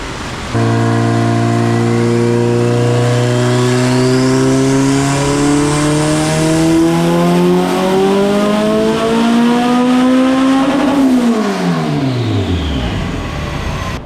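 A turbocharged Honda B18B1 non-VTEC engine makes a dyno pull, its loud tone climbing steadily in pitch for about ten seconds before the revs drop sharply away.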